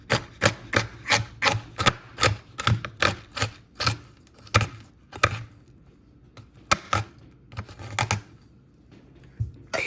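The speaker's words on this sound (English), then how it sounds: "I am now chopping up a bar of chocolate. I'm using some semi-sweet." A knife chops through a bar of semi-sweet chocolate on a board, giving a steady run of crisp, close, sharp chops with brief pauses and no talking.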